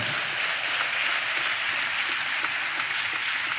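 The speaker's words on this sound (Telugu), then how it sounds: "పెద్దగా చప్పట్లు కొడుతూ స్తోత్రాలు చెప్దాం" A church congregation claps loudly in praise during a Telugu sermon, giving a dense, sustained roar of applause with no voices standing out.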